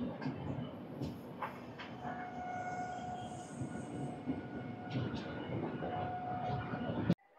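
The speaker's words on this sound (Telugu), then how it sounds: "మనమైతే మెల్లిగా రాజమండ్రి స్టేషన్లోకి అయితే వెళ్తున్నాము" A Sarkar Express train eases slowly into Rajahmundry railway station, heard from inside at low level, with steady rolling rumble, faint wheel squeal and brake tones, and a sudden clunk near the end.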